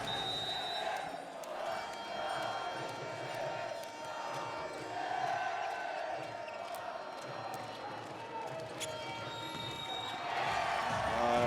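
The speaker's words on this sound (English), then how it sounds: "The Polish fans still trying to cheer their team on." Polish handball fans at a European championship match against Serbia keep up a steady, distant crowd roar and chanting in the arena, with the squeak and bounce of play underneath.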